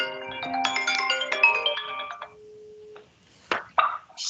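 Phone ringtone going off during an online meeting, a bright melodic jingle of layered tones that plays for about two seconds, then a lone held note, followed by brief rustling handling noises.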